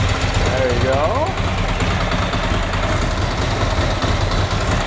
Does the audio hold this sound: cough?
no